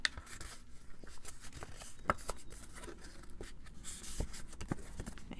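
Paper edges of an ephemera folder being distressed, heard as close, continuous rough scratching and scraping with scattered sharper rasps, no talking.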